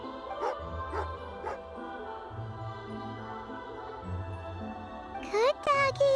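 A dog in Genshin Impact gives three short, evenly spaced barks over a game music bed, followed by a brief whimpering yip near the end.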